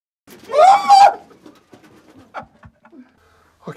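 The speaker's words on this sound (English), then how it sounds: "it's dark and there are birds flying in my face and I can't see them" Pigeons in a pitch-black, steep mosque tower: one loud close cooing call, then scattered soft flutters and faint rustles, with a brief breathy sound near the end.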